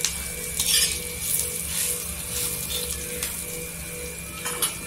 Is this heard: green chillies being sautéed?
yes